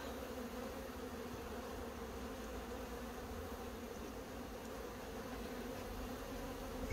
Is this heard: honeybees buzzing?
yes